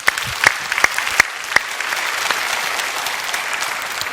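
Church congregation breaking into sustained, fairly loud applause during a Korean sermon, a dense crackle of many hands with a few sharper claps standing out, lasting about four seconds without voices.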